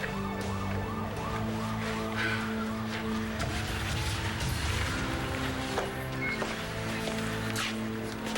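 A wailing ambulance siren cycles repeatedly over traffic noise, loud and steady, with a second tone layered in at moments.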